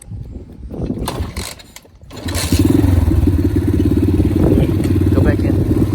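An Apollo DBX18 dirt bike is kick-started, with clattering kicks and mechanical rattles before the engine catches and settles into a loud, steady running putter, close by.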